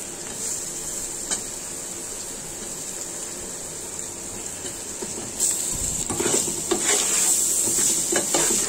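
Dried loitta fish (shutki) frying in oil with onion, garlic, cumin, turmeric and chili, a steady hiss that jumps louder as the fish goes in, followed by spatula scrapes against the pan.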